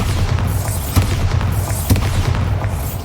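A Bombarda blasting spell in Hogwarts Legacy sounds as deep booming explosions, with a couple of sharper blasts rising above a rumbling low background.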